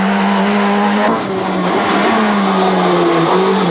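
Rally car at the 1996 European Rally Championship thrown round a corner, engine roaring loud and close, revs dipping at the turn and then climbing under a rough, skidding tyre noise.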